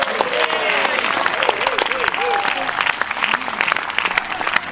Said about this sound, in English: let that applause take them all the way back to their seats there.